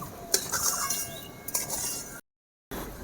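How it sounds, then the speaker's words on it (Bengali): A spoon stirs sugar into sabudana (sago) for laddu, giving soft scraping and light clinks against the bowl, close and quiet, with a brief silent gap near the end. "চিনিটা ভালো করে মিশিয়ে নেব।"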